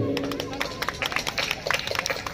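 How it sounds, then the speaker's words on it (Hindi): An audience applauds at a staged Sundar Kand devotional performance, scattered claps that grow denser, heard under a murmur of voices and background noise. "कृपया ताली तो बजाइए।"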